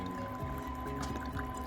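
Water draining through soil, plants and stones in a small classroom erosion model, heard as a soft, close trickle and faint dripping over a low steady hum, quiet and continuous for under two seconds.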